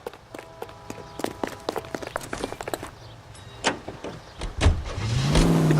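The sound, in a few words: car driving in the video game L.A. Noire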